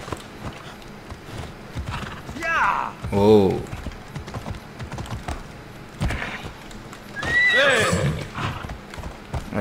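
A horse in Assassin's Creed Odyssey whinnies twice in clear, descending cries amid steady hoofbeats, with a man briefly exclaiming and faint keyboard-like clicks underneath.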